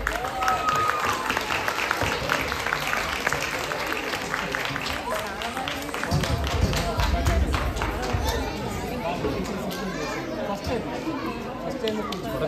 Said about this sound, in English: let's all honor them by giving them another round of applause